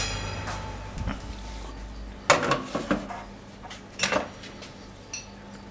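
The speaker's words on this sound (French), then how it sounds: "Donc on sort la génoise du four." Metal sponge cake pan clattering and clinking as the génoise is taken out of a home oven, a few sharp knocks and rattles over a low kitchen hum.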